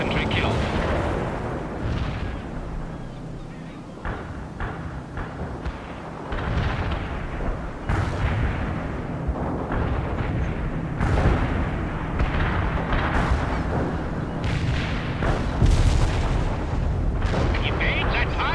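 Heavy artillery fire rains down in the World in Conflict real-time strategy game, a sustained, loud roar of overlapping explosions and blasts lasting throughout, with radio-style game voices talking over the bombardment.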